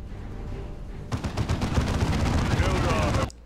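Rapid gunfire in the Dawn of War II video game bursts in after a low background rumble, a loud, dense rattle of overlapping shots that stops abruptly.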